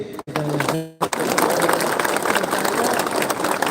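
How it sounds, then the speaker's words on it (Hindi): Crowd applause at a political rally in Sabroom, Tripura, a broad, steady wash of clapping that swells after a short spoken line at the start. "सब इनको भी एक बड़ा ताली दीजिए"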